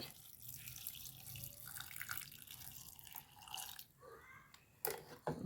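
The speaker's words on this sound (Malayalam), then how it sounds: "ഇനി കുറച്ച് വെള്ളം ഒഴിച്ചു കൊടുക്കുന്നുണ്ട്" Water pours and splashes into a vessel of powdered ingredients for Kerala payasam up close, trickling unevenly, then ends with a few louder splashes and drips.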